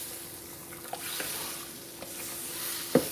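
Homestead chili being stirred in a pot, a soft, quiet scraping and bubbling texture with a few faint clinks and one sharper knock near the end.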